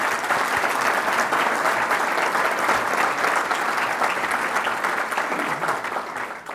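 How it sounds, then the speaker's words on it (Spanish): Sustained audience applause fills a hall at a political forum, a dense, steady wash of many hands clapping at once that stays loud throughout and thins slightly toward the end, with no voices over it. "Todos le debemos siempre a usted un aplauso"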